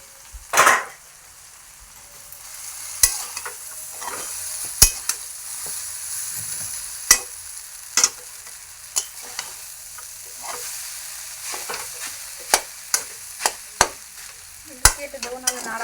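A spatula stirs chicken chowmein frying in a pan, with a soft background sizzle punctuated by sharp, irregular metallic scrapes and clacks spaced every second or so, close by.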